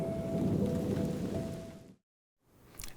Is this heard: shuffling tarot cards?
no